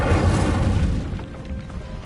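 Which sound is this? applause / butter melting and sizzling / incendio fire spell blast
incendio fire spell blast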